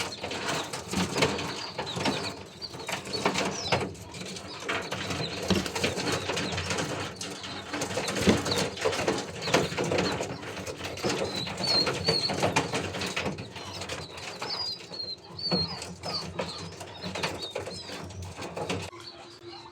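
Soft, repeated cooing of pigeons or doves against a steady background of rustling and ambient noise, with occasional faint wing flutters.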